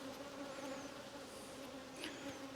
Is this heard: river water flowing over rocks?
no